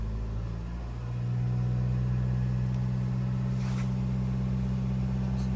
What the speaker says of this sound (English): when I rev RPM 2000,